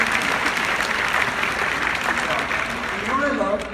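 A crowd at a real estate conference event in Orlando, Florida, giving sustained applause, dense and even clapping with voices and cheers mixed in, dipping slightly near the end.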